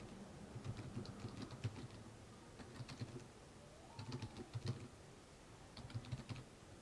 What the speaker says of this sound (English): I'm just typing my email address.